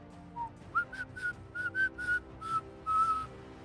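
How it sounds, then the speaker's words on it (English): Whistled tones in a tabletop fantasy role-play session: a string of about eight short, clear notes rising and falling in pitch, moderately loud and close, with no talking over them. "you hear the whistle"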